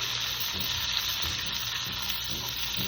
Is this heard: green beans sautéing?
yes